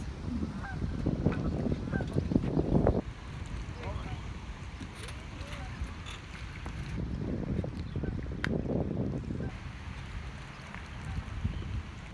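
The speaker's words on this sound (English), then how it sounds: "Scaring the geese." Geese honk repeatedly in loud bursts, then quieter calls follow, with voices talking at a distance and open outdoor ambience.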